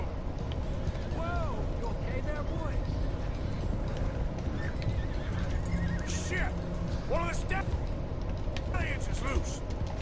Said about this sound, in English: At least the horse got up.